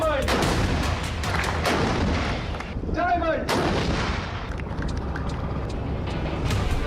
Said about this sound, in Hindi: ये 155 मिलीमीटर की सेल्फ प्रोपेल्ड आर्टिलरी है।